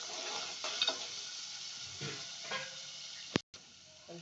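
Ginger garlic paste frying in two spoons of oil in a pan for a carrot curry, with a constant close sizzle, a few soft stirring scrapes and a brief sharp clatter near the end.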